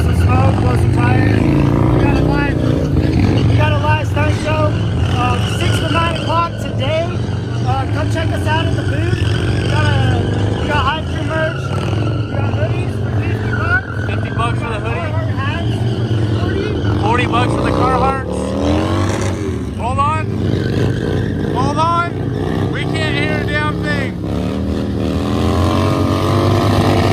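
Harley-Davidson motorcycle doing a stunt burnout with tires smoking at a 4/20 stunt show at South Valley Harley-Davidson: a loud, sustained engine roar with revving surges throughout, with voices mixed into the din.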